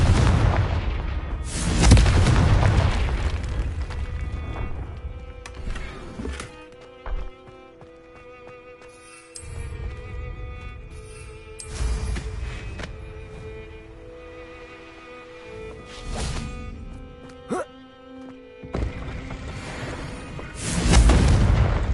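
Explosions from the Confringo spell in Hogwarts Legacy go off repeatedly as loud booming bursts with rumbling tails, separated by quieter stretches of game ambience and scattered magical effects.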